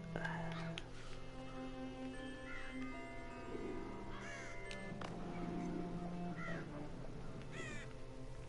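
Crows cawing in a video game town, several harsh caws scattered at moderate distance over a steady low ambient hum, with bells and a faint voice in the background.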